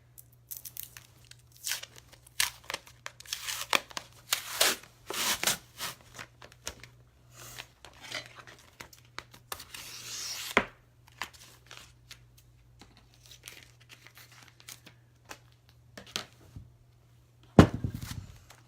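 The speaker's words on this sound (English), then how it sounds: "I'm going to cut a piece of my transfer tape here for the name." Transfer tape is handled and cut for a name decal on a small tray, giving close crinkly tearing and snipping sounds in scattered bursts, with a louder thump near the end.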